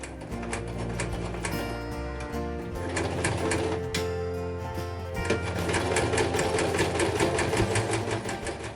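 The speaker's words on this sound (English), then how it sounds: "So on to stitching all of this" A sewing machine stitches fabric for a LARP ranger jacket, running in a steady, rapid mechanical rhythm up close, its motor hum and needle clatter continuous with slight speed changes.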